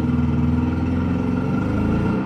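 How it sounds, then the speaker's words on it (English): A home generator powering a house bogs down under electrical load, a loud steady engine drone whose pitch sags and wavers toward the end, with a clattering mechanical edge throughout. "you heard the generator bog down from the load"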